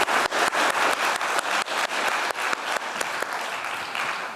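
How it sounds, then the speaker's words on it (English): A conference audience claps steadily for the panelists after a European Energy Union panel discussion, a dense, even round of applause with sharp individual claps standing out near the listener. "I would suggest that we applaud the panelists"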